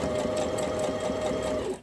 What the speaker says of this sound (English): now I'm just sewing in those pleats